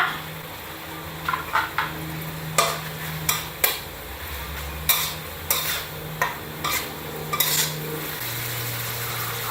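Chicken liver and long beans stir-fried for Thai basil stir-fry: a utensil scrapes and clacks against the pan in repeated bursts over a continuous close sizzle, without speech.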